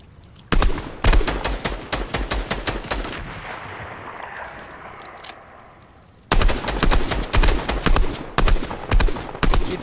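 Rapid automatic gunfire in Fortnite, a loud close burst of sharp shots that trails off into a quieter echoing stretch before another fast volley starts up.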